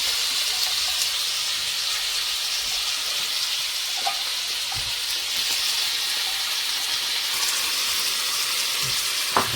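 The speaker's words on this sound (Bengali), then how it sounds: "প্রথমে আমার বউ ভাজবে আলু" Potatoes fry in hot oil with a continuous, even sizzle and hiss for nearly ten seconds, with a few faint clinks along the way.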